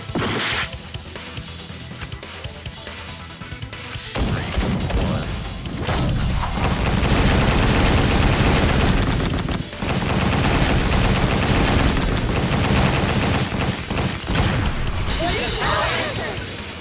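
Gunfire in the video game Danganronpa V3 during a class trial, sharp whip-like shots and cracks over a loud, dense backdrop of game music and effects, with bursts recurring through the scene.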